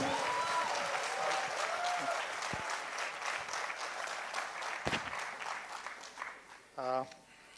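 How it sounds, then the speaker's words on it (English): A room full of people at a BNI Bangalore members' day claps steadily, the applause gradually thinning and tapering off toward the end, with a short voice at the close. "let's welcome him with a big round of applause"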